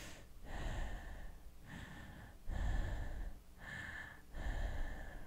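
A human voice imitates eerie nighttime breathing in a bedroom: four slow, rasping breaths in a steady rhythm, close and breathy, with no other sound between them.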